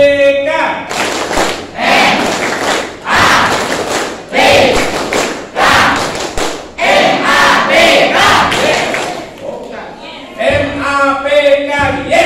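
A group performs a rhythmic clapping chant, with loud bursts of claps and voices repeating in regular sections over about twelve seconds, close and energetic.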